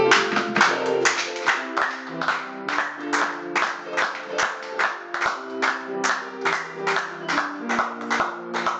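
Church congregation at a Sunday service claps in steady unison to acclaim Jesus Christ, brisk rhythmic claps over a sung melody, close and sustained throughout.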